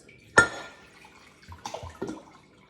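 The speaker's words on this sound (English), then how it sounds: "Now I'm going to pour this right back into the 2-cup measure." Liquid poured back into a wide-mouthed 2-cup measuring cup, heard as a sharp initial splash followed by a few softer pouring and dripping sounds, close and moderately loud.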